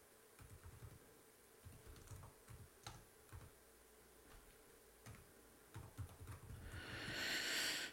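Light typing on a computer keyboard, with soft irregular clicks in short bursts and pauses under a quiet room hum, and a rising hiss near the end.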